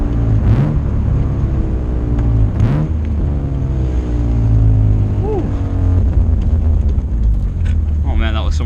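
BMW E36 M3 exhaust, miked, taking a turn at about 60 mph: a loud engine note rising and falling through revs and shifts, with the driver talking over it.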